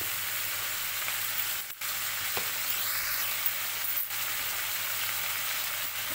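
Mutton curry sizzles steadily in a village-style pan while being mixed, a constant close frying hiss broken by a couple of brief stirring scrapes, no voices.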